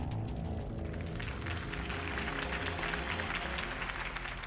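Steady crowd applause in the Telltale Batman video game, clapping and cheering at a campaign event, loud and continuous, over a low rumbling background.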